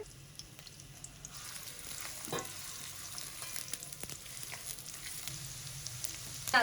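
Steady oil sizzle and crackle of onions frying in a pan, continuous and close, with occasional stirring scrapes and no talking.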